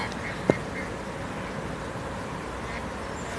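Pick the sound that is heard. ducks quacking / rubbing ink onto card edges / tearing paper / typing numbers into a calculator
ducks quacking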